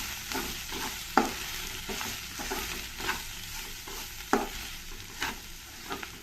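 Turmeric is stirred into a hot tempering for fenugreek-leaf chitranna, with a soft, steady sizzle broken by repeated spoon scrapes and knocks against the pan.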